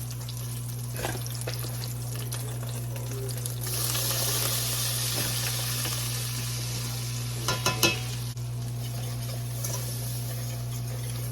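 Butter and flour sizzling in a pan, a soft steady fry with occasional scraping stirs and a few sharp clinks near the middle, no talking.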